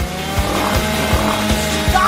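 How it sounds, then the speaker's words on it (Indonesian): A saw cutting through a Twix chocolate bar makes steady rhythmic rasping strokes, roughly three per second, loud and close with a gritty, buzzing edge. "Singkirkan gergaji itu sekarang. Tenang, aku membutuhkannya untuk memotong Twix."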